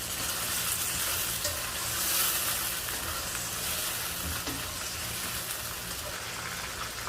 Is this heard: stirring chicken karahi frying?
yes